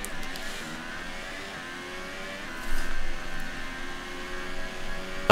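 A Formula 1 race car engine in the F1 2018 video game during qualifying, a steady high-pitched whine that holds a continuous tone. It swells briefly louder in the middle, with no talk over it.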